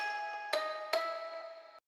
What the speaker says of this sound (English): I've added a pluck made from an arpeggiator to give it some rhythm.